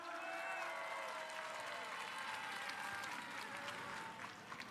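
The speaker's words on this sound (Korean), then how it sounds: "큰 박수 부탁드리겠습니다." Crowd applause at a Korean political rally, a faint steady patter of many hands heard from a distance, with a voice briefly audible over it.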